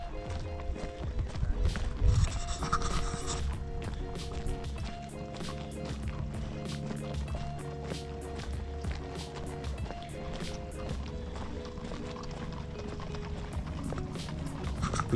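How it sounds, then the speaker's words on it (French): Pony hooves clip-clop in a steady, continuous rhythm for the whole stretch, fairly close and loud over a busy, constant background. "Petit poney."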